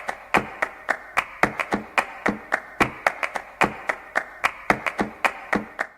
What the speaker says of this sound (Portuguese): O que acabámos de ouvir foi um exemplo de palmas de uma boleria com contagem rítmica